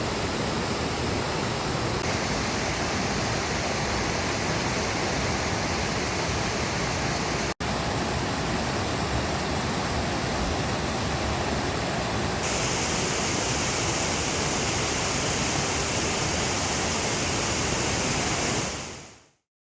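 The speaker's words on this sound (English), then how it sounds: "In addition to the waterfall, you'll also find a beautiful cascading stream that comes down the hill straight at you." Wahkeena Falls in the Columbia River Gorge roars steadily, its waterfall and a cascading stream tumbling downhill close by, a loud, unbroken rush of water with no voices.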